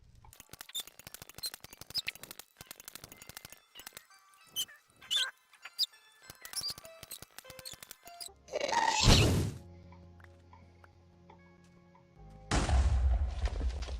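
Ghast from Minecraft firing fireballs in the Nether, a loud whooshing blast followed later by another burst, separated by scattered clicks and small game noises.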